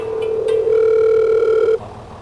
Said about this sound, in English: I'm going to call Nancy.